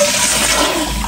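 A tankless toilet flushes after its button is pressed, sending a loud, steady rush of water that fills the whole stretch up close, with no talking.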